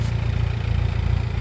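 Mahindra 6025 tractor engine idling steadily, a close, even low rumble with a faint repetitive throb and no other sounds.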